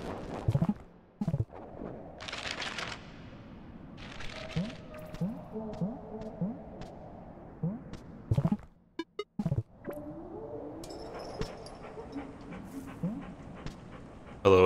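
A dog in the pixel-art game Animal Well pants and whimpers in soft, repeated breathy bursts and small whines, moderately close, broken by a few sharp percussive game hits and brief pauses.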